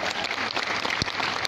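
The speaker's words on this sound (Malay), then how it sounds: "Berikan tepukan kepada beliau." Audience applause after a speech at a Singapore alumni talk: dense, steady clapping throughout, moderately loud, with a brief thump near the end.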